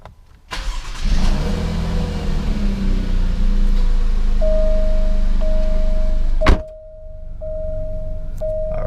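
An Alfa Romeo Giulia Quadrifoglio engine cranks and catches, then settles into a loud steady idle, followed by a sharp click and a quieter hum with a thin electronic tone.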